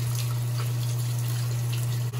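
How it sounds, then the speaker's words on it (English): Hot water running steadily from a tap to wet dolls' hair, a continuous close hiss over a constant low electrical hum. "Get some hot water and start wetting them."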